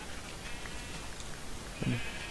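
A Minecraft sheep bleats once, short and fairly close, near the end of a stretch of quiet in-game background noise.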